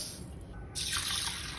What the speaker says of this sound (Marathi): 2-3 वेळा पाण्यात स्वच्छ धुवून घ्यायचं।